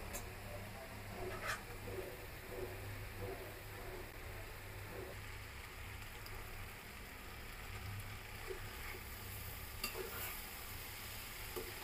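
Quiet, continuous sizzle of banana flower and pulao rice frying in a pan, with occasional scraping clicks from stirring scattered throughout.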